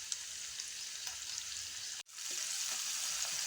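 Turmeric and spices frying in oil in a pan for Mysore dal, giving a steady close sizzle with a brief dropout midway, no talk.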